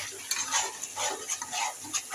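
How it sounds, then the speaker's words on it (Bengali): Masala for a potato and egg curry being stir-fried, with brisk spoon scrapes and a light sizzle in quick irregular strokes, close and moderately loud. "মশলাটা আমি ভালো করে কষিয়ে নিচ্ছি।"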